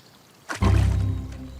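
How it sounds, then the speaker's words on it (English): A water vole splashes into a pond nearby in Kielder Forest with a sudden plop, followed by a swirling, bubbling wash that slowly settles. "It's the sound of a water vole entering the pond."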